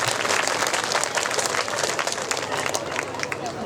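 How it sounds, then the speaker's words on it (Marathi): An outdoor audience at a public meeting in Nanded district breaks into loud, dense applause to welcome a guest, a sustained wash of clapping with crowd voices mixed in. "जोरदार टाळ्यांच्या गजरामध्ये त्यांचे स्वागत झालं पाहिजे."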